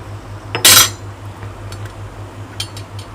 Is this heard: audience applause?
no